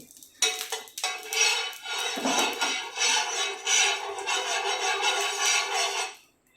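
Oil spread across a hot griddle for uttapam, a scraping, rubbing sizzle with metallic clinks of a utensil on the pan, starting after a short pause and continuing steadily for several seconds before stopping abruptly.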